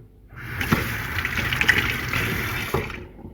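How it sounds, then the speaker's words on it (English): Tap water runs steadily into a sink as synthesizer buttons are rinsed under it, a continuous close gushing rush lasting about three seconds with a few small clatters. "Run it under some water."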